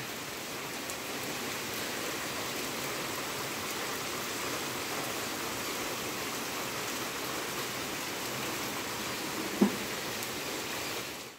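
Steady monsoon rain pours evenly in a Konkan village, a dense continuous hiss with no letup, broken once by a single sharp knock near the end.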